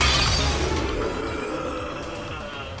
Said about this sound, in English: smashed into one of the light bulbs in the ceiling, shattering it